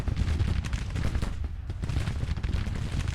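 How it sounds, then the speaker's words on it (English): Gunfire rattles in the Civil War strategy game Grand Tactician: The Civil War, with dense, continuous musket volleys and scattered pops rolling together into a steady crackling roar and no talk. "What on earth are these guys shooting at?"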